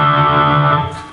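Short electric guitar lick, a few sustained, slightly distorted notes ringing together and fading near the end, played alone and close.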